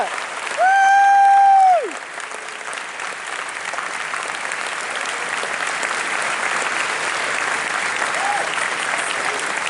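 Audience applauding panelists at a PAX West 2022 gaming panel, starting with a loud whoop and then continuing as steady, dense clapping from a large hall crowd.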